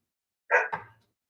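A single dog gives a short two-part bark in a courtroom, loud and close, with silence around it.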